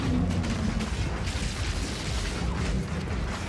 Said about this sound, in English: Something started going nuts with corpse exploding.